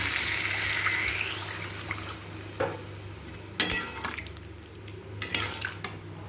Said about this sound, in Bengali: এটা জল দিয়ে দিচ্ছি